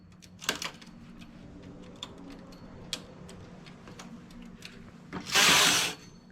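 Knitting machine carriage passing across a row of wool while decreasing for a knitted biker hood, giving faint mechanical ticks and clicks, then a louder harsh rushing sweep near the end; no talking.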